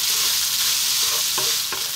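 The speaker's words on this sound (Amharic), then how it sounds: "ሩዛችንን ለአምስት ደቂቃ በደንብ አድርገን እንጠብሳለን ማለት ነው።" Cold leftover rice fried in oil in a pan and stirred with a utensil, giving a steady close sizzle broken by a few scraping knocks of the spatula against the pan.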